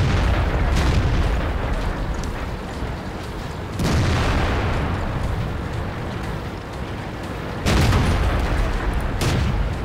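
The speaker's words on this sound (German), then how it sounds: "Ups, zu früh geschossen." Heavy tank cannon blasts in World of Tanks, loud booming shots at the start, near four seconds and near eight seconds, each with a rumbling tail over dense battle noise.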